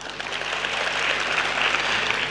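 An audience claps together at a talk, a brief, dense wash of applause that holds steady and swells slightly, with no voices over it.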